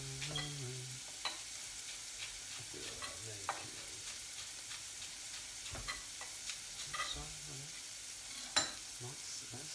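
Bacon and mushrooms fry in a pan for pasta, a steady soft sizzle broken by the scrape and clack of a utensil stirring, with one sharper knock near the end; no talking.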